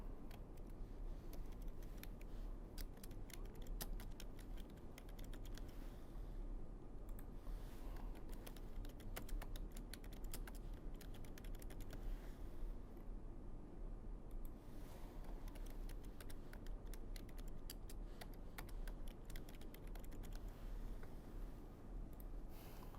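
Steady typing on a computer keyboard while entering text into a Microsoft Word diagram, a continuous close patter of key clicks throughout, alone with no talk.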